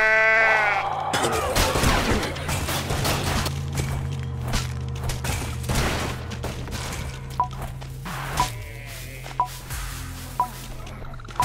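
Bleating goat sounds from Goat Simulator, a zombie goat in a graveyard level, ring out loud and near over a busy game soundscape, followed by a few sharp, evenly spaced game blips.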